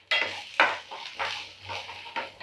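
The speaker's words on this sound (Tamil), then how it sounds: "எடுத்து வச்ச வெங்காயத்தை சேர்த்துப்போம். எல்லாத்தையும் நல்லா வதக்கி விட்டுக்குங்க." Onions and masala are sautéed in a pan for a chicken liver curry, with about five distinct spatula scrapes over a faint sizzle, all close and without talk.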